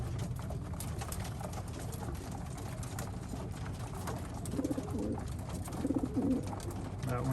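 Racing pigeons in a loft give a few soft, low coos partway through, faint and close against a steady background hum.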